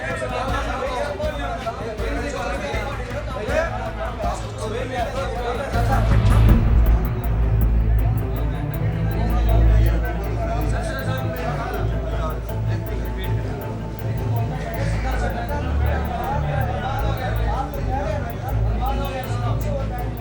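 Noisy crowd commotion outside a police station, a dense babble of many voices with traffic rumble, swelling louder briefly midway and otherwise steady throughout.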